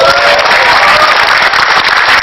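Loud audience applause at a televised Indonesian standup comedy show, a thick continuous roar of many hands clapping close to the microphone throughout.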